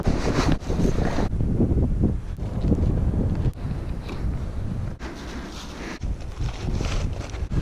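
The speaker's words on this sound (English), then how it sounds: "Cold, windy, no sun." Strong wind buffeting the microphone on a cold mountainside ridge, loud continuous roaring gusts with brief drops, no other clear sounds.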